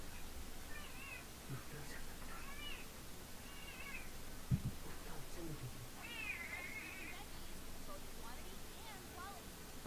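A cat meows repeatedly in short, wavering cries against a faint constant background hiss. The meows come at irregular intervals and are fairly quiet, with a brief thump partway through.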